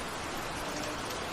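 Steady, dense rain falling in a cartoon forest, a loud even hiss with no other sounds.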